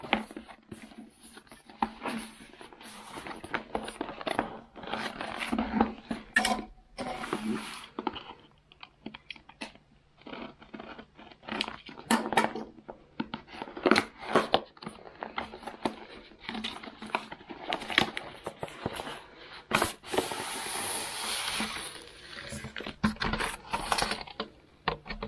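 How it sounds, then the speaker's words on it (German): An Amazon package holding a solar panel and battery is unpacked nearby, with irregular crinkling, rustling and light tapping of packaging and handling, no talking. "ich werde das hier jetzt erstmal auspacken"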